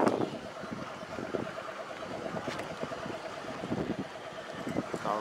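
Wind gusts across the microphone over a steady low rumble on a boat at sea off Miami, with the boat motor and water sloshing beneath, fairly quiet and unbroken.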